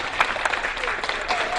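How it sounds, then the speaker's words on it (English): Studio audience applause for the winning middle school team on a televised Texas quiz show, a short steady burst of dense clapping heard close and alone. "Applause."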